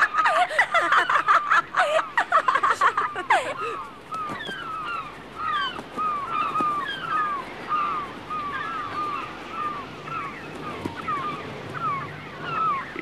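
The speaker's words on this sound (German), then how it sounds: "Ich kann die Möwen nicht loswerden." Seagulls calling near a floating island in an adventure setting, a steady run of short, high, repeated cries overlapping one another after a few loud, rough squawks at the start, with no talk.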